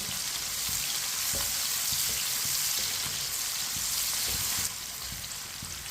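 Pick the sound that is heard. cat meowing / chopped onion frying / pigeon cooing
chopped onion frying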